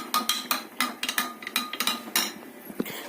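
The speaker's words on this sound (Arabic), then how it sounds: "بعد كده هنقلب النشا كويس قوي." A spoon stirs starch and water in a cup, clinking repeatedly against the side in a quick, uneven rhythm of sharp taps, close and fairly loud with no voices.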